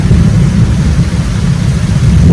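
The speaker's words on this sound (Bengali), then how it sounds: "এই দেখুন মেঘ ডাকছে শুনতে পাচ্ছেন" A deep, continuous rumble of thunder rolls on steadily throughout, loud and low with no clear breaks.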